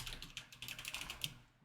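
Rapid typing on a computer keyboard while coding, a quick run of light key clicks close to the microphone, ending with one sharper tap and no talk.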